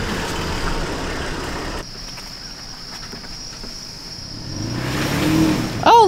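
A truck's engine revs on a muddy night trail in Richloam WMA as it gets stuck on slick tires, the revving surging louder near the end over a constant chirp of insects.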